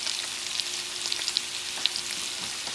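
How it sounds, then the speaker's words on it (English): Shrimp with thyme and aromatics cooking in a pan for Puerto Rican stuffed plantains, giving a steady, fairly quiet sizzle with scattered small crackles and pops and no voices. "Adding those aromatics. And you let it cook until the shrimp is fully cooked."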